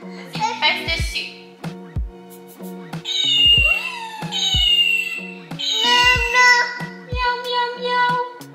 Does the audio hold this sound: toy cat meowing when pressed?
yes